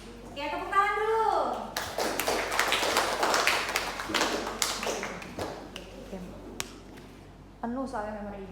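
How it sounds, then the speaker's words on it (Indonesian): Classroom of children applauding together, a burst of dense hand clapping that lasts several seconds, with children's voices talking and exclaiming before and after. "Oke, tepuk tangan dulu."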